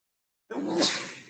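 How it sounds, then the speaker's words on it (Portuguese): A single sharp sneeze bursts out close by during a physics lesson on spherical mirrors, loud and abrupt after silence and then trailing off. "Deixa eu espirrar"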